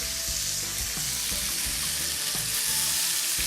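Pork tenderloin sears in a hot pan with a loud, continuous sizzle, broken by a few clunks and scrapes as the meat shifts; nobody speaks.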